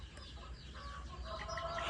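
Chickens cluck and murmur close by on a farm, soft overlapping calls rising a little toward the end over a low background rumble, with no talking.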